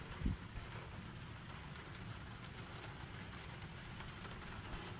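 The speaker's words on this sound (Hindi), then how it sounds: "बारिश काफ़ी तेज़ हो गई है" Heavy rain falls in a home garden, making a faint, steady wash of hiss that continues without a break, with one soft thump near the start.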